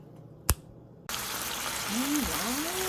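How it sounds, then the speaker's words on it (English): Chopped vegetables including spinach and mushrooms hit a hot pan and sizzle with a steady broadband frying hiss after a brief tap, continuing loud and close to the end. "Get those in the pan so they can be sauteed."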